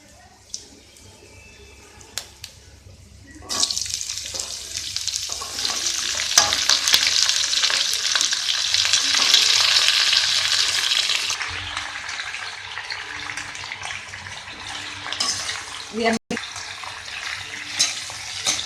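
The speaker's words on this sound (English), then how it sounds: "We'll fry them for some seconds, and then we'll add in all the vegetables." Vegetables frying in oil for a no-onion, no-garlic mixed vegetable dish, with a loud, steady sizzle that bursts in as they hit the pan, holds for several seconds, then settles to a softer crackle with occasional clinks.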